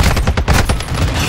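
Rapid bursts of gunfire from a Call of Duty-style shooter, loud, close and dense, with a quick run of heavy blasts filling the moment.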